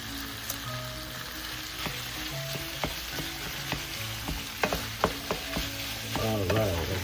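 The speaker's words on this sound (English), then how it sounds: "saute that stuff. Let's make sure our pork doesn't clump on us." Ground pork seasoned with black pepper and salt sautés in a pan, a soft steady sizzle broken by sharp clacks of a utensil stirring and breaking up the meat, with faint music behind.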